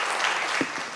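An audience claps for young debaters at a youth debate event, a steady full round of applause from a crowd indoors, with no talking over it.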